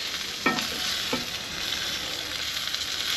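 Salmon fillet frying skin side down in butter in a pan, a steady bright sizzle throughout with two short clinks or scrapes early on, close and alone with no voices.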